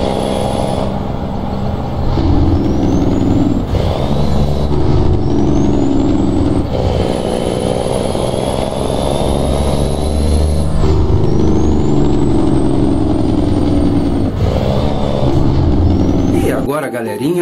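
Modded heavy truck engine sound in a truck driving game, a loud close engine drone rising and falling through repeated gear changes, with whining pitch sweeps and a sharp hissing release near the end.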